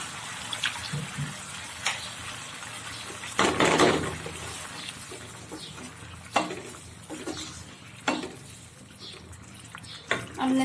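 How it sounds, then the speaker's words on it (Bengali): Water poured into a pan of okra cooking with lentils and mustard paste, a splashing gush that swells midway amid faint kitchen clatter and a few short knocks, with no talking. "এখন আমি এতে পানি দিয়ে দিব সিদ্ধ করার জন্য।"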